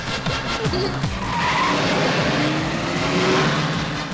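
A car in a comedy scene is driven wildly, its tires skidding and squealing over a loud, steady engine roar that runs without a break; faint talk sits underneath.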